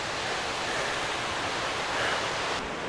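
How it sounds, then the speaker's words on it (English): A waterfall below a steep mountain climb in the Manndalen valley gives off a steady, broad rushing roar, like a distant surf. It stays constant and even throughout, with no voices over it. "The waterfall below us."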